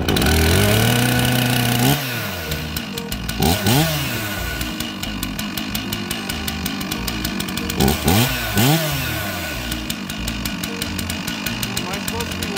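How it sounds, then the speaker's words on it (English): A Stihl MS 461 chainsaw runs loud and close on an Alaskan chainsaw mill, milling logs into lumber, revving up and down with rough engine buzz and occasional pitch swoops. "On the Alaskan Chainsaw Mill. And what size is your saw? It's a 461."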